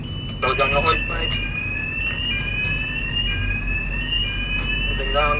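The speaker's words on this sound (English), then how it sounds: "The old alarm's gone off." A tower crane's alarm sounds during dismantling work, a steady high electronic tone running throughout with slight pitch drift, with site noise and brief talk underneath.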